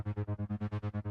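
Second synthesizer patch plays a steady 16th-note pattern, about ten evenly pulsed notes with a buzzy, filtered tone, fairly quiet and heard alone.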